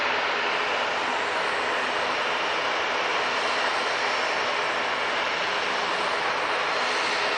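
Jet aircraft noise at Manchester Airport, a loud steady broadband roar holding constant throughout, with no voices over it.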